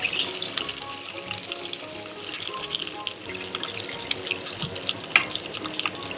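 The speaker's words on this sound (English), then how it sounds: "next we're going to add a bit of water" Water pours and trickles in a steady stream into a cooking mixture, with scattered drips and splashes, close by and fairly quiet.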